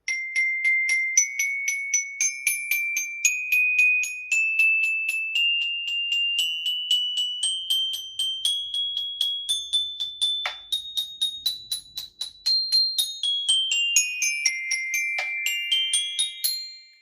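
Mallet percussion plays rapid, evenly repeated bell-like notes that climb gradually in pitch and then descend, ringing brightly and closely.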